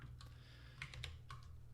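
Several close keystrokes on a computer keyboard come in short uneven bursts over a low steady hum, with no one talking.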